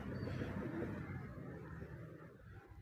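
Pet pigeons wandering outside their loft coo softly, a low, murmuring, rolling call heard fairly close and quiet, strongest at the start and fading slightly toward the end.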